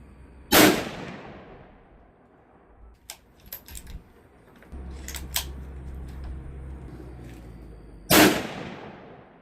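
Two sharp rifle shots crack out at a shooting range, spaced several seconds apart, with faint handling clicks and a low hum in between.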